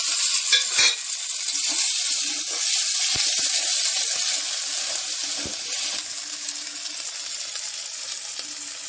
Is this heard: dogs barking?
no